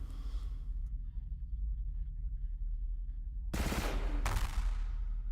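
Point defense guns fire in the space strategy game Stars In Shadows: after a quiet stretch with faint tones and a single click, two loud bursts of rapid gunfire break out near the end.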